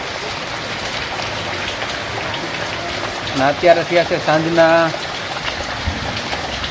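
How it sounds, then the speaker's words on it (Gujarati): Steady rain hisses and patters throughout, with someone speaking briefly over it partway through. "અમારા અહીંયા વરસાદ ચાલુ છે લાઈવ"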